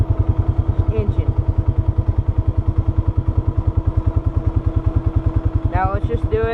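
The engine of a four-wheel drive vehicle runs while riding, before an oil change. A close, loud, steady rhythmic chugging pulse continues throughout, with a brief voice heard over it near the end.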